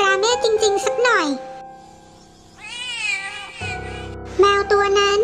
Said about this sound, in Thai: แมวตัวนั้น